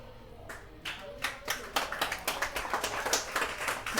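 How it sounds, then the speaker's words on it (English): Scattered hand clapping from an audience at a Gammax 3 Poedel Cup grand final builds up, with quick irregular claps gathering into a fuller patter, heard at a moderate distance. "People are clapping."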